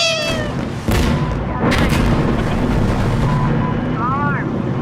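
Small arms gunfire in Insurgency Sandstorm: two sharp, loud shots crack over a steady roar of battle, with voices heard at the start and end.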